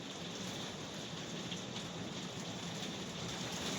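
Steady rain falls outside, an even, dense hiss of drops on surfaces that holds at a constant level throughout with no voices.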